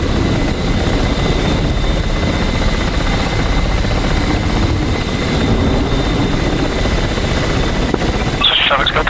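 Helicopters in the combat flight simulator DCS World give a steady, loud rotor and turbine drone throughout, with a brief burst of radio-style chatter near the end.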